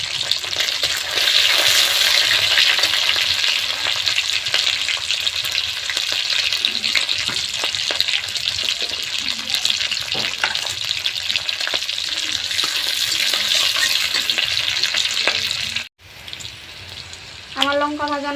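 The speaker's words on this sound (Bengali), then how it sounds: "ফোড়নে দিব জিরে" Cumin seeds and green chillies crackle in hot oil left from frying fish: a dense, continuous sizzle close by that stops for a moment near the end, followed by a short tonal sound.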